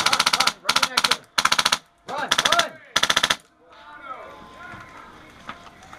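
Rapid bursts of airsoft gunfire crackle in five quick volleys during an outdoor team airsoft battle, loud and close, followed by quieter movement and distant rustling.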